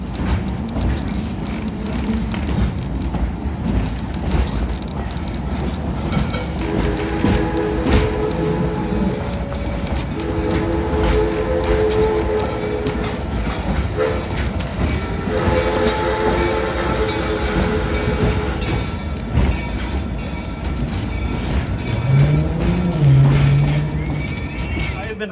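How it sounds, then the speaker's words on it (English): A theme park train at Knott's Berry Farm rumbles and clatters along the tracks with steady mechanical noise, a horn sounding partway through and voices chatting underneath. "we're gonna hop on the train"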